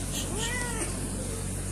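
A domestic cat meows a couple of times, drawn-out and wavering, close but partly buried under a steady loud hum.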